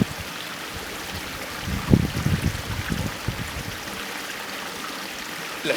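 Water flows down a cleared channel near the Yakamunna stream at Dummalasuriya, making a steady, fairly loud rush with a few louder splashing surges in the middle.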